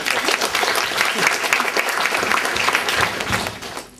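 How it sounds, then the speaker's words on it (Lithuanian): Audience applause fills a hall at a teachers' day concert, dense sustained clapping close and loud that fades toward the end. "Pasitikime plojimais."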